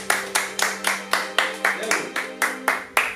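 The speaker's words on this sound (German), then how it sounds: "Applaus für Valentina." Steady rhythmic clapping for a painter at an art studio session for artists with disabilities, about ten even claps spaced roughly a third of a second apart over a low hum, close and fairly loud.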